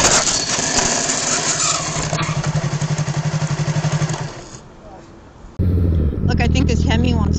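A Hemi car engine revs loudly and steadily with a pulsing throb, then drops off before a second loud burst of engine noise returns, close by in traffic.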